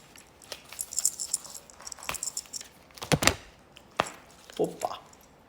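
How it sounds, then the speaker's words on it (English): Tarot cards being shuffled close by, with irregular crisp slaps, riffles and taps scattered unevenly over several seconds, some louder snaps standing out. "Shuffling."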